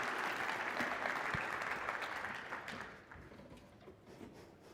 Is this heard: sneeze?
no